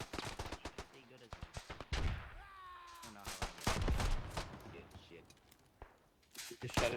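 Sharp bursts of video game gunfire crack out in quick, uneven strings, some close and loud, with a pause in between, while players talk and exclaim over the shooting.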